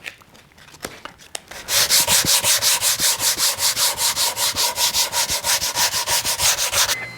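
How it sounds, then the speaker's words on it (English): A wooden bass guitar body is hand-sanded with 80 grit sandpaper, after a few light taps, in a steady rapid back-and-forth rhythm of loud, close, raspy strokes with no talking. "that's why I'm going to sand with 80 grit"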